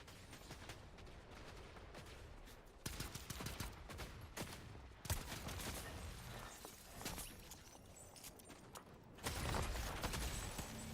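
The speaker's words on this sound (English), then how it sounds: "Someone's shooting something." Bursts of gunfire crackle in Fortnite, with heavy volleys and impacts spread across dense, noisy game action and louder surges near the middle and the end.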